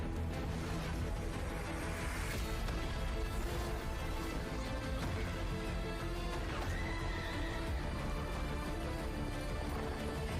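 A horse whinnies and its hooves clip-clop steadily over a dense, continuous backdrop of music or ambience, loud and constant through the whole stretch.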